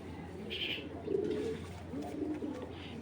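Checker python pigeon, a foreign-bred male, cooing softly in low rolling phrases, with a brief higher chirp early on over a steady background hum.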